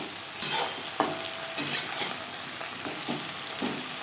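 Okra fries in a pan with salt and turmeric, a steady sizzle broken by repeated scraping stir strokes at a loose, regular pace, close and clear.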